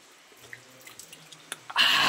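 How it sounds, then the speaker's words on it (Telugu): Water falling from above inside a cave, with soft scattered drips building to a sudden steady splashing flow near the end, heard close by and without talk. "ఏవో ఇంత కేవ్ లోపల పైన వాటర్ ఫాల్ అవుతుంటే ఈ నీళ్ళు చాలా స్వచ్ఛంగా ఉంటాయి"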